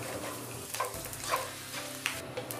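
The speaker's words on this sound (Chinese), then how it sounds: "将粉条放入油锅里炸一炸" Glass noodles deep-fry in a wok of hot oil, giving a continuous soft sizzle and crackle with a few small pops, fairly quiet and close.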